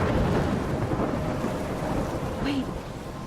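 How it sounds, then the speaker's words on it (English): Steady rain and a low rumbling thunderstorm fill the scene in Life is Strange, loud and continuous throughout, with a brief faint wind-like whine near the end and no voices. "I'm trapped in a storm."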